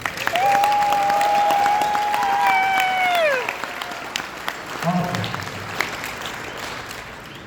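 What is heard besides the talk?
audience applauding the color guard and master of ceremonies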